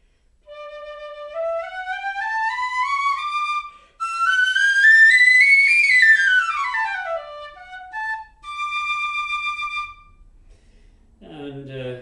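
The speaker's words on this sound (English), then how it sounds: "let's try a little scale on the penny whistle" A penny whistle plays a rising then falling scale of clear, bright notes, followed by a few held tones and a brief voice at the end.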